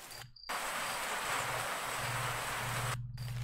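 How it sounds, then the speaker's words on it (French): Steady broadband hiss of rain in a city fills the clip, constant and even, with a low background hum underneath and no voices. "la pluie en ville"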